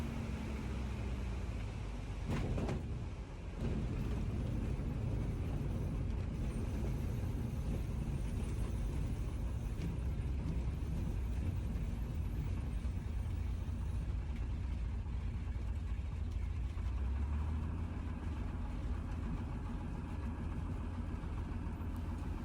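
Bearhawk bush plane taxiing slowly along a rough, rocky bush airstrip, its engine a steady, continuous drone throughout with a brief sharp thump early on, no talking.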